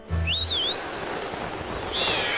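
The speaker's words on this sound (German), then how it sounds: "Ein bisschen pfeifen." Whistling in the video game Skyward Sword: a clear rising tonal whistle holds a long bright note, then a second shorter whistle follows after a pause, loud and close over a faint game background.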